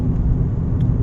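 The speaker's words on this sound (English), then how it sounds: "You can hear the road noise a little bit" Steady low road rumble inside a moving 2007 Toyota Yaris with about 150,000 miles, a continuous broadband drone with no talk over it.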